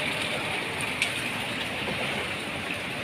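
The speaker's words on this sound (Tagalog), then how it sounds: "Away, hindi masyado gaano kalakas mamayang gabi ang ulan." Rain falls steadily through the night outdoors, a dense, even hiss of drops with a faint tick or two standing out, constant and moderately close.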